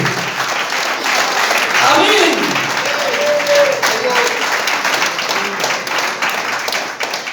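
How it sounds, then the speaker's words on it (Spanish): A church congregation applauds during a Spanish-language worship service, a loud, continuous wash of clapping with voices and a sung or called-out exclamation over it. "Aplaude al que vive."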